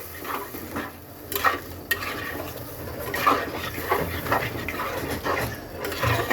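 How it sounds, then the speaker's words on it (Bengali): Masala stirred with a little water in a pan for a prawn and arum root curry, with repeated scraping strokes of a spoon over a low, continuous sizzle, close and without talk. "এখন এর মধ্যে দিয়ে দেব সামান্য পরিমাণে জল মশলাটাকে কষানোর জন্য এইবার মিক্সড করে দিলাম"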